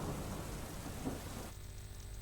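Heavy rain pours down in Mangrol with a low rumble of thunder, a dense steady hiss that drops sharply in level partway through, and no talking.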